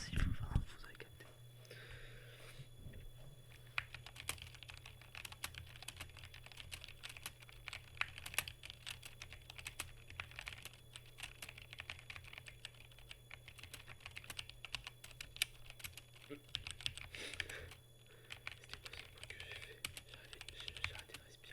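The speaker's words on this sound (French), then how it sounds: "vous laisse écouter un peu le micro, enfin le son du clavier bien sûr" Steady, continuous keyboard typing with rapid clicking keystrokes, close and clear, running throughout with a faint steady hum beneath.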